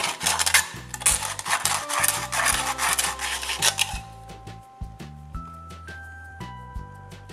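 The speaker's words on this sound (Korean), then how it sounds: "이 사포로 날카로운 절단면을 조금 갈아줄게요." Rapid sandpaper strokes rasp back and forth over a sharp cut metal edge, close and steady, then give way to scattered lighter scratches and small clinks.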